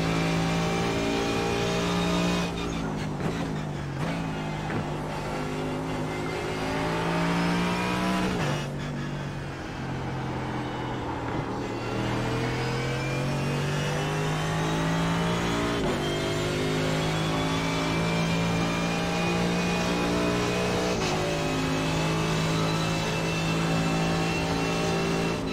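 IMSA race car engine in iRacing at the Nürburgring, revving hard and steadily through the gears with rising and falling pitch and brief lifts, loud and continuous with no talk.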